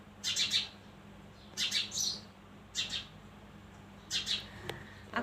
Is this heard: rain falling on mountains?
no